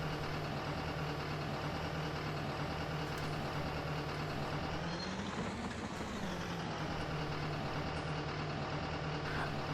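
Steady diesel idle of a Hitachi ZX290LC excavator engine in a Farming Simulator 19 mod, a constant low hum with a faint tonal whine, briefly swelling near the middle, continuous and close with no talk.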